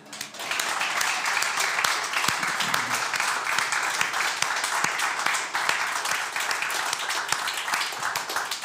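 An audience at a book reading breaks into sustained applause, dense clapping rising quickly and holding steady at full strength, loud and close, with a brief voice heard under it.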